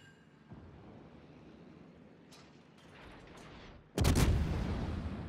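A World of Warships battleship fires armor-piercing shells: a low rumbling backdrop with faint clatter, then one heavy, loud broadband blast that booms and lingers to the end.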